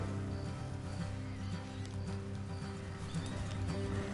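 Steady clip-clop of horse hooves in the video game Red Dead Redemption 2, under a dense, constant background hum, rhythmic and fairly even, with no clear voices.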